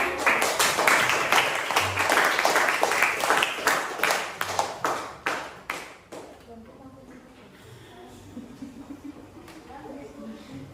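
Classroom applause from a group of students, a burst of claps that is loudest at the start and fades out after about six seconds, followed by a quieter room with faint murmuring.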